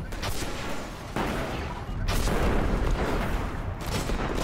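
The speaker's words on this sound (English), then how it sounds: "A couple more shots should do it." Gunshots ring out against a boss in the video game Destiny. Several loud, close blasts and bursts of fire are spaced across a few seconds over a dense, booming game soundscape.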